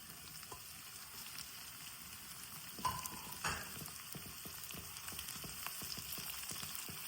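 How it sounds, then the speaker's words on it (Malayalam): Onion, green chilli and ginger frying in a pan for Kerala-style chilli beef, a steady close sizzle with soft crackles and a couple of brief utensil scrapes midway. "നമ്മുടെ സവോളയും പച്ചമുളകും ഇഞ്ചി എല്ലാം വഴന്ന് വന്നിട്ടുണ്ടെങ്കിൽ നമുക്ക് ക്യാപ്സിക്കം ഇട്ട് കൊടുക്കാം."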